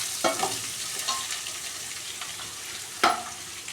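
Steady sizzle of chopped onions, tomatoes and curry leaves frying in oil in a pan for vada curry, close by and fairly soft, with a few sharper crackles and stirring scrapes and no speech.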